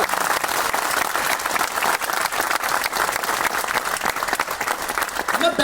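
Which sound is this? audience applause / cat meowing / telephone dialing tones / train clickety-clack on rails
audience applause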